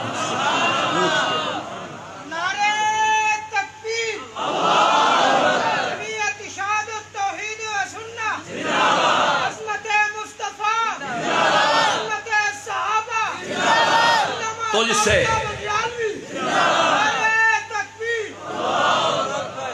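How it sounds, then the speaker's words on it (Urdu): Rally crowd at a religious gathering chants slogans in loud, repeated call-and-response bursts across the whole stretch, with a leader's voice shouting over the massed voices. "بڑے نعرے ہو گئے یار"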